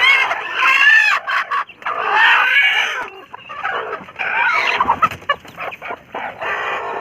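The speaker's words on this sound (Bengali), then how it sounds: "এখানে এতগুলা মুরগি বসে আছে।" A crowd of chickens in a coop clucks and squawks loudly and close by, with overlapping calls in uneven bursts and a few short pauses.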